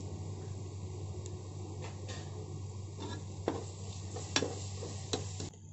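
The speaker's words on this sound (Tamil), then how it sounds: "அடுத்து தேவையான ஸ்பைஸ் பவுடர்ஸ் போட்டு நல்லா சாட்டே பண்ணிக்கோங்க" Spice powders sautéing in a pan for chicken biryani, a soft low sizzle under a steady hum, with several sharp spatula scrapes and taps against the pan near the end.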